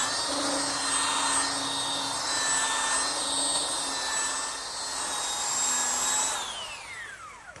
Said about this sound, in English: now I'm using my belt sander to remove any of the imperfections left by the saw blade and smooth